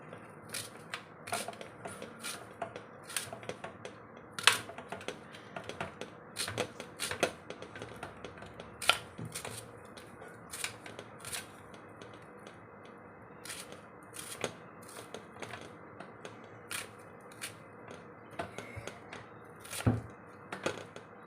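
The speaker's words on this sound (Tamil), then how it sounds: "இப்படி நம்ம வெங்காயத்தெல்லாம் நம்ம வேக வேகமாக கட் பண்ணி எடுத்துக்கலாம்" Onions are cut quickly with a knife on a board, a rapid run of sharp, fairly quiet chopping taps in an uneven rhythm, close by with no talking.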